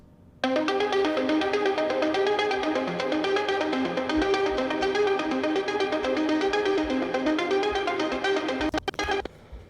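Main synth melody, shaped with plugin processing: a bright, dense run of rapid repeating notes starts abruptly after a brief quiet lead-in, holds steadily, then breaks off with a few stuttering glitch cuts at the end.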